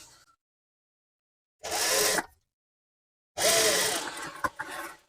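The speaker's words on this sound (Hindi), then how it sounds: "और अब हमें इधर की सिलाई लगानी है।" A sewing machine stitches kurti fabric in two loud, close bursts of steady whirring, one short and one longer, separated by silence.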